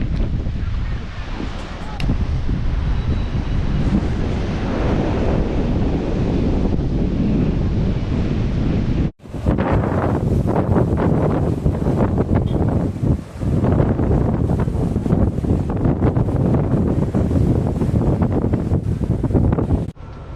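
Sea waves and strong wind on the Kanyakumari coast at India's southern tip, a loud continuous roar of surf with heavy wind buffeting the microphone and a brief dropout midway.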